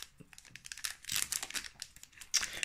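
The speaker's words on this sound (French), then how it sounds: "On va s'ouvrir le petit booster à l'unité." A Pokémon Evolving Skies booster pack crinkles and tears open up close, its foil wrapper rustling in bursts with a sharper rip near the end.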